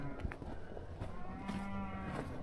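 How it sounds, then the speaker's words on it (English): Cattle heifers moo faintly in the distance, a low, drawn-out lowing over quiet farmyard background noise. "These are cows anyway? Yeah, heifers."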